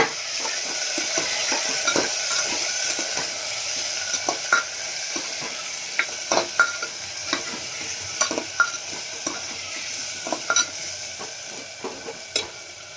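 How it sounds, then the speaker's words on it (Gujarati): Cluster beans and potatoes fry in a pan with a continuous soft sizzle, while a spoon scrapes and taps against the metal in irregular strokes as the vegetables are stirred. "મિક્સ કરશું શાકને"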